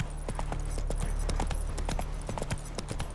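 Horse hooves trotting in The Witcher 3: Wild Hunt, a steady rhythmic clip-clop of many close hoofbeats over a low ambient drone, continuing for the whole stretch.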